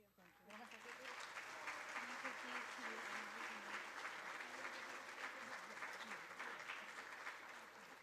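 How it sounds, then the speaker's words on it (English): Audience applause at a school board student recognition ceremony, a steady, fairly even wash of clapping that starts abruptly and continues throughout, with a voice talking faintly underneath. "If we could have one more round of applause"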